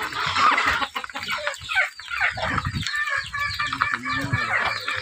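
Chickens cluck and squawk continuously in a busy, noisy flock, close by and loud, with rustling and some background commotion.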